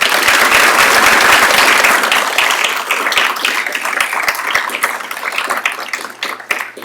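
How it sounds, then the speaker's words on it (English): Loud audience applause for the team behind an event in St. Louis, dense clapping from a large crowd that peaks early and then slowly thins and fades over several seconds. "let's have a round of applause again for the whole team that has put this event together"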